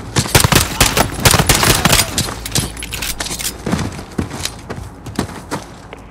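Rapid automatic gunfire from the Xbox One game Call of Duty Modern Warfare, with loud, dense bursts of shots cracking one after another throughout, some louder close hits mixed with a continuous rattle.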